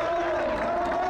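A polo crowd at the Audi Coronation Cup, England versus South Africa, gives a brief, steady burst of cheering and applause, dense and continuous without a break.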